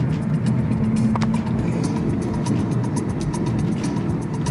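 A car driving through Johannesburg, with a steady loud engine and road rumble from inside the vehicle that holds level the whole time, plus a faint brief knock partway through.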